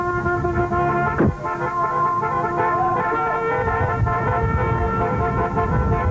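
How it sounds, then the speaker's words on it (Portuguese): Car horns honk in a political campaign motorcade, a steady blend of sustained, overlapping tones over continuous traffic rumble, with one sharp louder blast early on. "As buzinas anunciavam a hora da virada na campanha de Ulisses"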